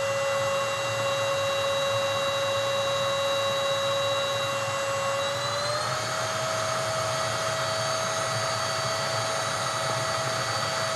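A MOOSOO XL-618A budget stick vacuum running, a steady high-pitched motor whine that steps up in pitch about midway as it shifts to high speed, continuous and close.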